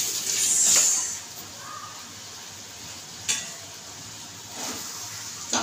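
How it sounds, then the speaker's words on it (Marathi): Bottle gourd sautéing in masala in a pan for lauki sabzi, with a steady sizzle and occasional stirring scrapes, close by and fairly even, with no voices. "चांगली तिला आता परतून घ्यायची."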